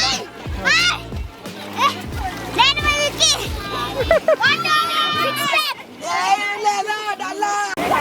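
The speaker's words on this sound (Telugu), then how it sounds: "మొత్తం ఫుల్గా స్నానాలు చేసి గోల చేస్తున్నారు" Family bathing and splashing in a pond, with lively children's shouts, chatter and laughter over repeated water splashes close by.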